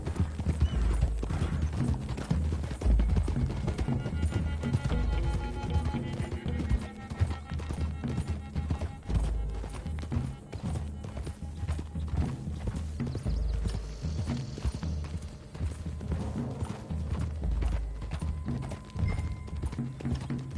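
Rapid hoofbeats of horses galloping steadily in the video game Red Dead Redemption 2, with an occasional whinny, over a dense rumbling mix that continues throughout.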